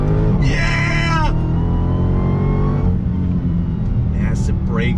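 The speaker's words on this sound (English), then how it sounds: "Massive brakes slowing us down." A performance car decelerates under heavy braking, its loud engine note dropping and rumbling up close with the high whine falling away, while someone talks excitedly over it.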